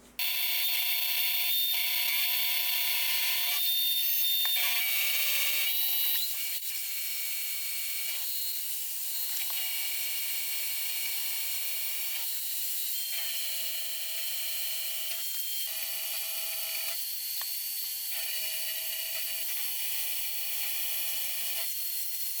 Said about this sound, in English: Next, I'll mill the slots for the cutters.